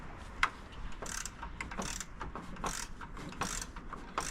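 A ratchet runs bolts into the water pump of a 2019 Dodge Challenger Scat Pack Shaker with a rapid, continuous clicking. The bursts come close and fairly loud, with brief pauses between strokes.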